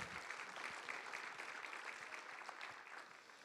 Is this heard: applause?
yes